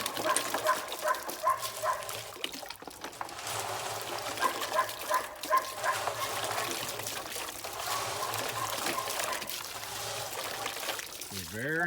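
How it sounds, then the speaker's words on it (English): Puppies bark intermittently in the background at a gold prospecting site near a mine, under someone talking and running water from a hose. "I'm sorry about the pups barking,"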